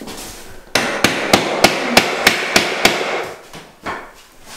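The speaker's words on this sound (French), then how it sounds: "il est en train de commencer à mettre le parquet" Steady hammer blows knock against wood while parquet flooring is laid, about nine evenly spaced strikes, close and sharp over a low background hum.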